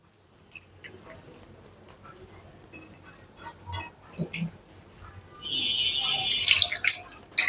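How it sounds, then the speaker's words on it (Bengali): A little water is poured into a cooking pan of ridge gourd and dried fish curry, starting as quiet drips and clinks and swelling into a brighter, steady pour near the end, close by. "এবার আমি হাত ধোয়া মতো একটু পানি দিব"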